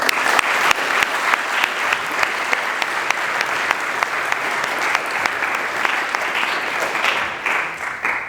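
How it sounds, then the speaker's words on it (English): An audience in a school chapel breaks into a long round of applause, thick and continuous clapping from many hands that holds steady for about eight seconds with a few louder claps standing out. "Let's give them a round of applause"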